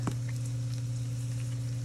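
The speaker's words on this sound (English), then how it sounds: "You can hear the potatoes sizzling." Roasted potatoes sizzle softly in hot olive oil, a faint, steady crackle over a low background hum, with no one talking.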